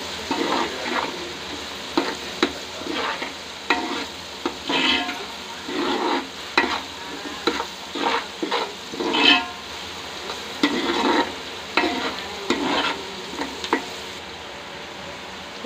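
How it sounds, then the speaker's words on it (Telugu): Onions frying with salt in a pan for chicken curry, a continuous sizzle broken by repeated bursts of stirring and spatula scrapes against the pan, close and fairly loud, no voices. "ఉల్లిపాయ ఫ్రై అవ్వడానికి కొంచెం సాల్ట్ వేసుకున్నాను."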